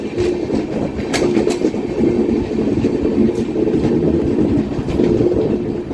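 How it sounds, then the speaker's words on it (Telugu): Wheels of an express train with new LHB coaches clattering rhythmically over rail joints while turning into Eluru station, loud and close, with a steady rumbling roll and sharp metallic clicks. "సౌండ్ కూడా భలే ఉంటుంది, కరకరకరకల ఆడుతూ ఉంటుంది బండిది."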